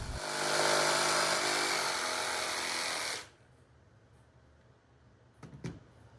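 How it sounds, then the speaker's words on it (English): A power drill boring holes with a 3/8 inch bit for a DIY BB gun target, a loud steady whine lasting about three seconds before stopping, followed by a couple of faint knocks. "I can drill out first with a 3/8 inch drill bit"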